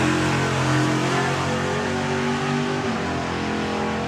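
A drag racing car engine at the STP National Finals 2021 drones loudly and steadily with a strong harmonic note that gradually shifts in pitch, heard alone without speech.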